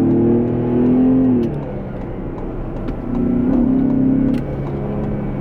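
A hybrid car pairing an electric motor with a gasoline engine accelerates hard, its engine tone climbing in two strong surges with a brief easing between, heard from inside the cabin without talk.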